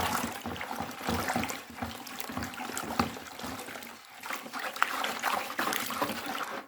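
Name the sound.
stirring salt into water for liquid soap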